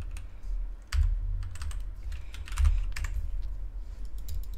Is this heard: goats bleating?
no